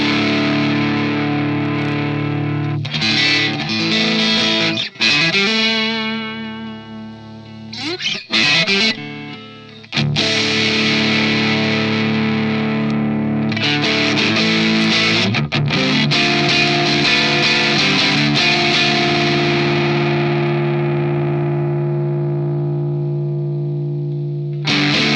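Electric guitar played through a digital Super OD overdrive model on an Axe FX, with sustained distorted chords and a few brief muted breaks, loud and up close, ringing out to fade at the end.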